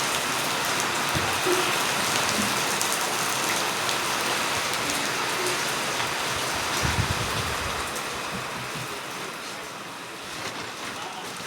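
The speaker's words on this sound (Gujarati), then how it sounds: "હજી વરસાદ ચાલુ છે," Steady rain falls on wet roads and surfaces during a rainy outing, a dense continuous hiss with no letup across the whole stretch, softening a little near the end.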